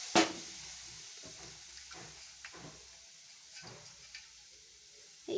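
Half-boiled eggs are stirred in hot water in a heated kadai. Soft scraping strokes and occasional light clinks come at irregular intervals over a quiet, faintly hissing background, with no talk.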